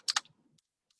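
Quick typing on a computer keyboard: a close pair of sharp key clicks, then a few faint scattered taps in a quiet room.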